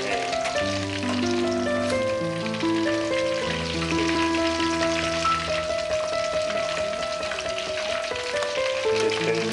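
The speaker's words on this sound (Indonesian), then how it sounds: "Rajungan goreng, digoreng di dapurnya." Blue swimming crabs fry in oil in a home kitchen, giving a steady, dense crackling sizzle that runs the whole time beneath prominent music.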